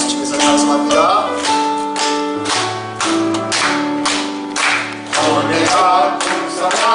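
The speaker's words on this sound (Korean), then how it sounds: "우리 박수 치면서 찬송합니다." A church congregation claps along in steady rhythm while singing a hymn together during a worship service, the loud, sustained singing and organ-like accompaniment carrying over the regular beat of hands.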